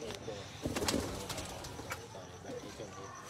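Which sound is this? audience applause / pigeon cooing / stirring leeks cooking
pigeon cooing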